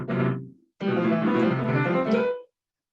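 A piano plays a twelve-tone row in two short, dense bursts of clashing notes separated by a brief pause, loud and close, then stops.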